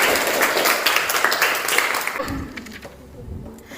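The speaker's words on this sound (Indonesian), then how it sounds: "Tepuk tangan untuk kita semua." A classroom of students claps together in a brief burst of applause that fades after a couple of seconds, leaving a low murmur of voices.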